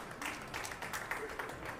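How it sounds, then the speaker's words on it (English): A crowd claps at a 10-ball pool match, a faint patter of scattered applause heard at a distance. "they started clapping, but watch how they quiet down"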